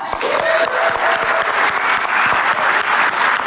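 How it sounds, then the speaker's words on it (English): Loud, dense applause from a large crowd fills the room, a steady roar of clapping throughout. "give yourselves a round of applause"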